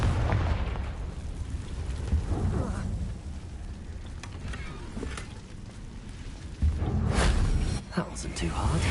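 Fiery blasts from the Confringo spell in the game Hogwarts Legacy, a few muffled booms and bursts scattered across the stretch, with a heavier pair near the end, over a dull low rumble of game sound.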